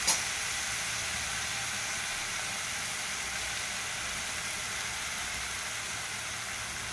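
Ghee sizzling in a pan on medium flame while cooking chira bhaji with banana and jaggery, a steady, even hiss that holds at a constant level throughout with no talk.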